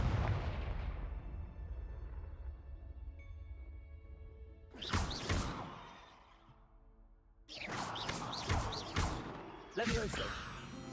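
Confringo blasting-spell explosions from the video game Hogwarts Legacy: a loud burst midway, then a dense run of sharp, booming blasts with crackling tails, close and forceful over a rumbling combat background.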